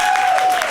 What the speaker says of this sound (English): can you give a big round of applause to Shika and all the organizers of today's e